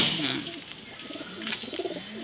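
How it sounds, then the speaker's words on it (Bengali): Soft, throaty pigeon coos repeat in short rolling bursts over a faint background hiss, fairly close by, at a pigeon loft in Howrah, Kolkata. "A1 কোয়ালিটি পায়রাগুলো সত্যিই খুব সুন্দর"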